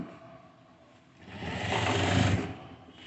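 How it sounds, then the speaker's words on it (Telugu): A sewing machine stitches the seat seam of a formal pant, starting softly and then building into a louder, steady motor hum midway before easing off, close by. "ఇప్పుడు ఇక్కడ ఇక్కడ నుంచి ఇక్కడ స్టిచ్ చేసుకుందాం"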